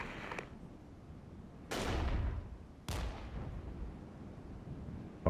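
Heavy gunfire and artillery-like blasts in the Cold War tactical wargame Regiments, with two loud booming shots whose long rumbling tails echo out over a constant distant battle noise.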